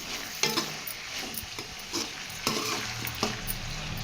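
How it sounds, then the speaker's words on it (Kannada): Chopped onion and tomato seasoning frying in a pan for ragi upma, a steady close sizzle broken by repeated scraping stirs of a spoon against the pan, with no voices. "ಕೈ ಆಡಿಸಿ ಚೆನ್ನಾಗಿ ಬೇಯಿಸ್ಕೊಬೇಕು"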